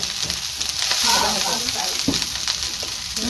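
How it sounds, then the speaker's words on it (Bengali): Cooked rice fries in a pan with a steady, close sizzle and scraping stirs, the crackle swelling briefly partway through. "এই দেখো আমরা ভাতগুলোকে ভাজছি"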